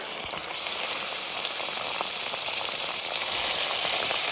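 Raw plantain slices hitting a hot pan of oil with fried onion and curry leaves, giving a loud, steady, close hiss of frying that runs unbroken throughout.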